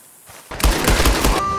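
Gunfire in Red Dead Redemption 2 aimed at a lock: a burst of several sharp, loud shots in quick succession following a quieter lead-in, with a faint tone lingering after.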